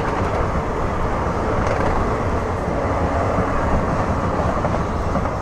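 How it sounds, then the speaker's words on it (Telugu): Chennai–Trivandrum Express train rumbling steadily past on Indian rails, a continuous loud roar with faint clatter throughout, heard from close by with no voices. "చెన్నై త్రివేంద్రం ఎక్స్ప్రెస్."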